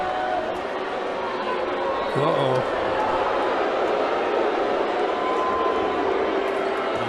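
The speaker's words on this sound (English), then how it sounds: "The crowd is booing." A baseball stadium crowd boos after Miguel Cabrera is hit by a pitch, a broad, sustained roar of disapproval filling the background under commentary.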